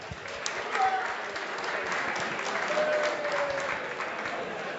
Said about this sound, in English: Hey, big round of applause, everyone.